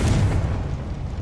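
The Confringo fire spell blast from the video game Hogwarts Legacy erupts as a loud, deep booming explosion. A rumbling roar then slowly decays across just over a second.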